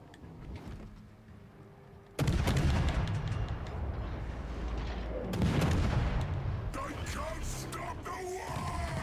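Warship guns firing in the naval game World of Warships Legends, heavy booming blasts that hit suddenly and loud, then rumble on at length under excited talk.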